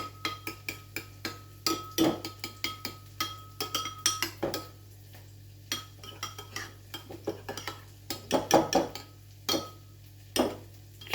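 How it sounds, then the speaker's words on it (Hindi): Salt and chaat masala being mixed into a yogurt and brinjal masala dish, with a steady run of close metallic clinks and scrapes of a spoon against the bowl, some louder knocks among them. "इसको कर लेते हैं अच्छे से मिक्स"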